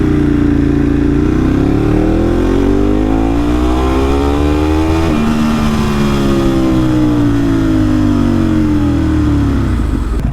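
A Ducati 748 motorcycle engine revs hard and close, its loud, steady roar climbing and falling in pitch as it accelerates through the gears without a break.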